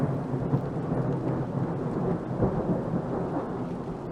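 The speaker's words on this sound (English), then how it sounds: "Thanks for summoning a thunderstorm to the stream, Jay." Stock thunderstorm sound effect from the weather game Outbrk: deep rolling thunder rumbles over a steady wash of rain, carrying on continuously with no voices.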